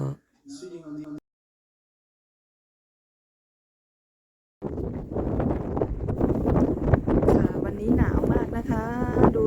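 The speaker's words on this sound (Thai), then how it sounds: "ลมแรงมาก" Strong wind buffets the microphone outdoors in Norway, a loud broadband rumble that fills the second half after a stretch of silence, with grass and trees thrashing; a brief bit of speech comes at the start.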